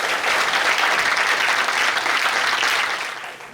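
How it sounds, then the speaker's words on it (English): An audience claps steadily for a few seconds, a dense roar of applause that tapers off at the end. "A round of applause for all our judges."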